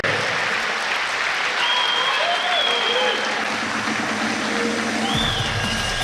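Crowd applause fills an arena after a finish at an ACB 40 MMA fight, a dense steady roar of clapping and cheering with whistles rising through it, lasting throughout at a loud, even level.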